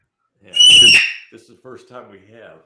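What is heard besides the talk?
pet bird calling in the background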